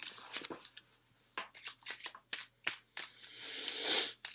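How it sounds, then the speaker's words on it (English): Romance angel oracle cards handled, shuffled and pulled, with a run of close, crisp riffling flutters and soft slaps ending in a longer rustling sweep. "let's pull some romance angel oracle cards"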